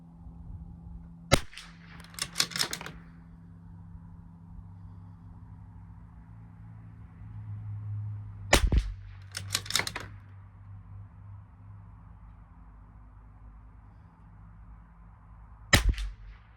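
Sharp, distant-sounding cracks from a Bergara B14R .22 rifle during an SK rifle match ammo test. Three separate shots are spaced several seconds apart, each followed by quick metallic action clicks over a low steady hum.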